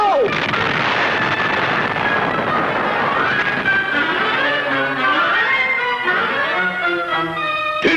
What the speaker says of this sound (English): That explosion could sink a ship!